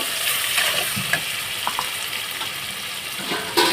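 Spice paste being cooked down in a pan for an imitation paneer dish made from potato and rice, with a steady sizzle, scraping stirs and light clinks running throughout.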